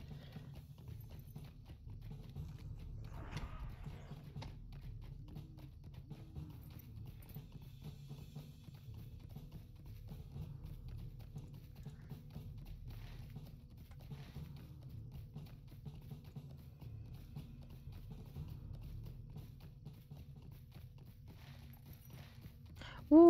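Horse hooves clip-clopping in the video game Lord of the Rings Online, a faint, steady walking rhythm running throughout with quiet background sound and no speech.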